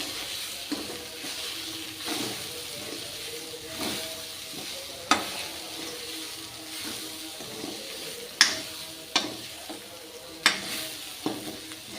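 Spices are stirred into a paneer curry in a pan on the stove. A spoon scrapes and clacks rhythmically over a moderate sizzle, with a few sharper knocks against the pan and no speech.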